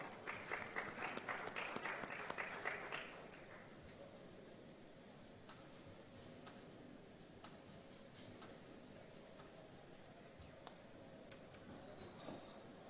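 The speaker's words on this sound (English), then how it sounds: "Please help me welcome with a huge round of applause, Mr. Hitesh Chawla." Audience at a content marketing conference applauds to welcome a speaker on stage, a dense burst of clapping that fades after a few seconds into a quieter room with scattered claps and faint murmuring.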